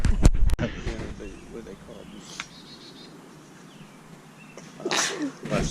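A single sharp, loud sneeze bursts out near the start at an outdoor barbecue and birthday gathering, then gives way to quieter background chatter and faint insect-like buzzing.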